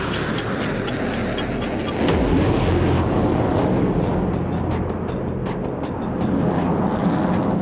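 Sukhoi jets roar off a Russian airbase runway near the front line, a loud continuous broadband engine rumble that swells and surges as the aircraft depart, with no voices.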